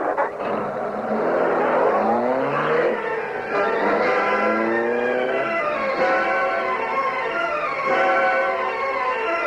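In a 1940s radio drama chase, a car pulls away with a loud, close engine roar. It revs and accelerates through rising gear whines over several seconds, sustained and fairly constant.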